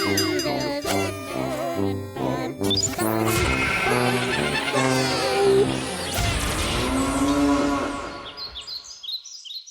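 A cow moo is played as a sound effect within a musical theme, the drawn-out bovine low sounding among instruments before the music fades out.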